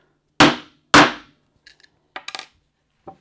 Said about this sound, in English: Try and hammer it evenly.